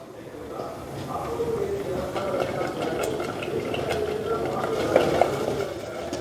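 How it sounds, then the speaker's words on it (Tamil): A thickening rice flour mixture is stirred steadily with a ladle in a pot, giving a continuous soft scraping and sloshing that sits under a voice talking throughout. "நம்ம ஜல்லி கரண்டி இல்லை துடுப்பு வச்சு நல்லா நம்ம இது மாதிரி கிண்டிக்கிட்டே இருந்திங்கன்னா"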